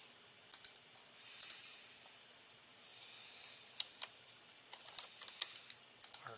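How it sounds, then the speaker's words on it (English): Quiet, crisp computer mouse clicks come singly and in quick pairs, scattered irregularly against a soft steady hiss with no talk. "Clicking is harder today."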